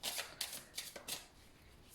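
Tarot cards being shuffled to draw an extra card, a series of quick, soft riffling bursts in uneven rhythm, close and fairly quiet, with no talk.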